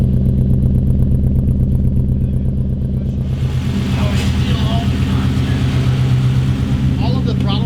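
A Lexus V8 swapped into a drift truck runs at a steady, smooth idle, a loud close rumble with a clattering top end, while people talk over it.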